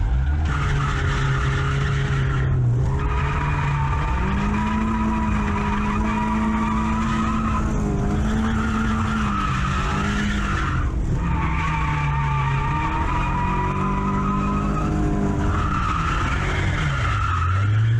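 Drift car at an event sliding with tires squealing and skidding continuously, the engine revving loudly under sustained wheel spin, close and intense throughout, with the front tire rubbing at full steering lock.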